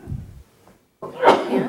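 A single sneeze bursts out indoors at a board meeting, a short sharp exhale after a brief quiet moment, fairly close and loud, with faint room murmur before it.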